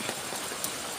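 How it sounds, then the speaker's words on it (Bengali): Light rain falls in a courtyard, a dense, even hiss with faint scattered drops, steady and close for about a second. "বৃষ্টিতে ভিজে টিপ টিপ করে বৃষ্টি পড়ে যাচ্ছে।"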